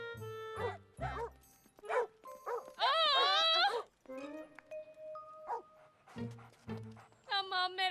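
Cartoon dogs bark and yip in short bursts alongside high, whining tones, with animated characters talking between and over the barks.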